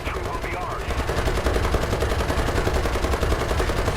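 Rapid, continuous gunfire from tanks in a combat video game, loud and dense automatic bursts sustained throughout, with a voice speaking over part of it.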